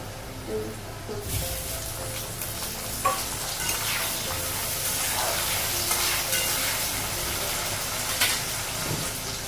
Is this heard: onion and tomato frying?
yes